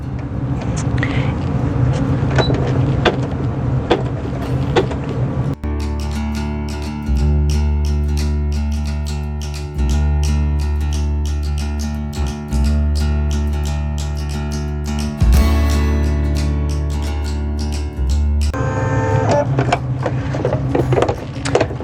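An embroidery machine stitches placement lines for a felt appliqué with a loud, steady mechanical whir and rapid needle chatter. It starts, stops and restarts in bursts, close up, with some rustling handling noise around the running stretches.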